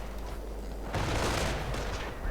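Gunfire and artillery in a WWII strategy video game, a dense continuous rumble of distant shots and blasts that swells to a louder burst midway, with no speech.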